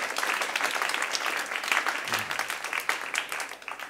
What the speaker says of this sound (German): Gib ihm nochmal einen herzlichen Applaus.